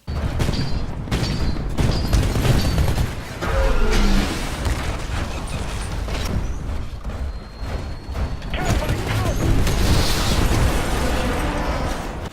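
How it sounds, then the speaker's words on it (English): Titans crushed by Titanfall drops in the Titanfall video game: a series of heavy booming impacts and explosions with metallic clanks and bursts, loud and busy throughout with brief pauses between crashes. "And now some footage of Titans being destroyed by Titanfalls."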